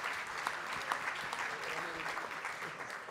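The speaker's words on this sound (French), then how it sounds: "On peut l'applaudir." Audience applause at an awards gala for fleet managers, a soft, steady patter of many hands clapping heard from a distance.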